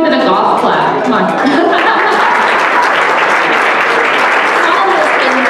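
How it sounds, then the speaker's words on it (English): Audience applause in a hall, loud and dense, mixed with chuckles and crowd murmur, sustained evenly from start to finish. "He deserves more than a golf clap."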